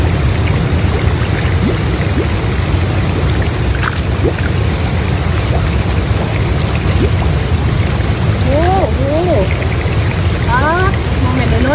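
Continuous loud rush of flowing water during heavy rain by a fishing spot near rice paddies, with faint chirping bird or frog calls rising through it near the end.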